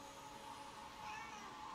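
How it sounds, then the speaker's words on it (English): A cat meows in Ghostwire: Tokyo, a single short call over a steady hum of game ambience and music, fairly faint and with no talk over it. "I cannot pet that cat, right?"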